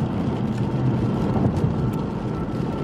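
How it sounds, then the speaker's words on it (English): Heavy rain falls outdoors in a steady, dense downpour that fills the clip as a continuous, fairly loud wash with no breaks. "it's raining so hard out here, it ain't even funny"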